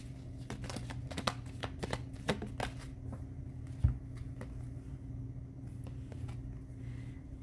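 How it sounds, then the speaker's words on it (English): Tarot cards shuffled by hand before a single card is pulled, a run of crisp riffling clicks and flutters with a few sharper snaps, close and fairly quiet over a steady low hum, no talk. "let me just pull one card"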